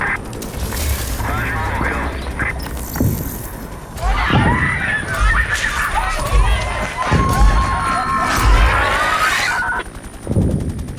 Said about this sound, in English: I also added some robot steps and some screaming, so it kind of sounds like a robot is approaching a group of people and they're getting hysterical.